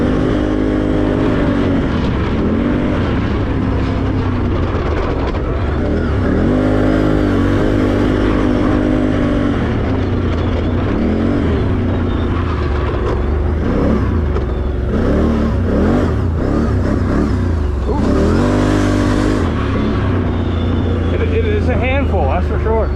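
A Can-Am Renegade 1000 ATV engine revs and drones continuously off-road, with throttle swells rising and falling over about twenty seconds, loud and close, while someone talks over it.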